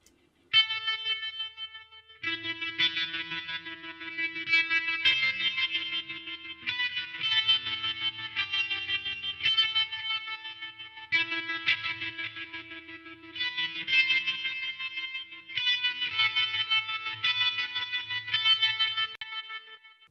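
Electric guitars play through a delay effect with its drive turned down, a steady distorted, chorused tone with repeating echoes sounding continuously over twenty seconds, with no talk.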